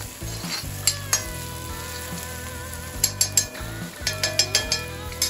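Onion for spicy homemade kheema pav sizzles in a pan as it browns, a constant close fry hiss broken by repeated clinks and scrapes of a spoon stirring against the metal.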